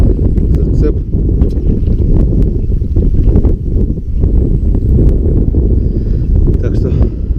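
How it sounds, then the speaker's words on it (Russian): Heavy wind buffets the microphone outdoors while spinning fishing, with loud, low rumbling gusts that persist throughout, while someone talks underneath. "Ветер, конечно, будет создавать шум."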